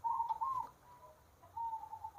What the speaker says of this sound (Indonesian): ini perkutut crossing biasa lokal